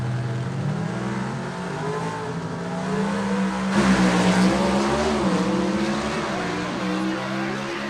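A gasser drag race car with a Fulton race engine launches hard at Gulfport Dragway, its engine roaring loud and close with a sharp surge in intensity partway through, then holding a rough, rising howl.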